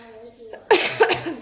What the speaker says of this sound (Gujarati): સોરી, ઉધરસ આવે થોડીક.